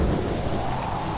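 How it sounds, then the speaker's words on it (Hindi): Heavy rain pours steadily outside at night in an animated Hindi story, a dense, constant hiss with a low rumble underneath, heard alone for a brief moment. "बाहर बारिश तेज है"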